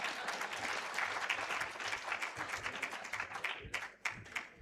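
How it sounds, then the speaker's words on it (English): An audience applauds at a health integration summit after a presentation, a steady fairly soft wash of many hands clapping that thins out toward the end. "I'm used to being clapped for after I make a presentation."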